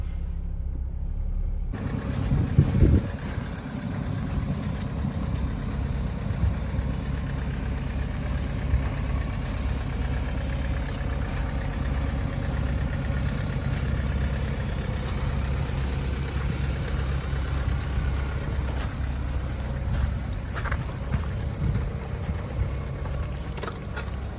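A 2017 Chevrolet Cruze turbo diesel idles steadily while warming up, a constant low engine drone that starts abruptly after a brief silence and holds evenly throughout, with a faint clatter near the start.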